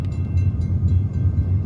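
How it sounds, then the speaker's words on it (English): A train rolls along a railway track in a low, steady rumble with rhythmic wheel thumps, close and loud for a short stretch with no voices. "That's the first time I ever heard a train come on that track"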